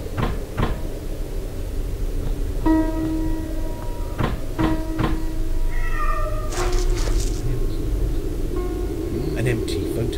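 A cat meows in the video game The Lost Crown, several short plaintive calls among knocks and clatter over a constant ambient hum.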